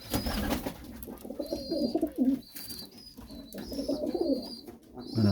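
A flock of pigeons coos steadily up close, low throaty rolls overlapping from several birds, with a few thin higher chirps scattered among them.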